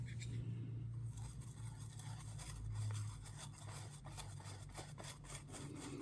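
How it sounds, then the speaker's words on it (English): A burnishing brush rubs metallic flakes across the surface of a heart trinket box, producing faint, continuous scratchy brushing strokes with a low background hum and no speech. "I got my burnishing brush."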